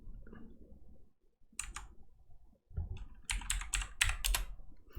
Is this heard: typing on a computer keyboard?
yes